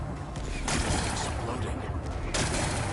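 An explosion blasts away rocks and a power cell in Horizon Forbidden West, heard as a loud, dense rumbling roar with two surges of crackling debris over the whole stretch.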